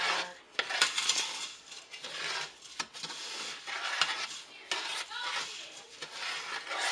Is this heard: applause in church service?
no